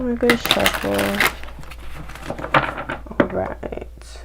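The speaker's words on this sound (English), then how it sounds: "I'm gonna shuffle." Cards are shuffled in quick riffling bursts close to the listener, with a person talking between the shuffles.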